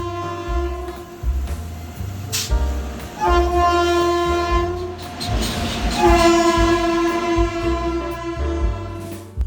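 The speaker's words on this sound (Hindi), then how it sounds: "फिर लगभग 1 घंटे के इंतजार के बाद हमारी इंदौर वीकली स्पेशल ट्रेन आ जाती है" The Indore Weekly Special train pulls into a station sounding a long, loud, sustained multi-tone horn over the heavy rumble and clatter of the arriving cars.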